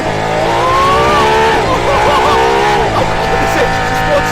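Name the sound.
Aston Martin Valkyrie engine revving on race track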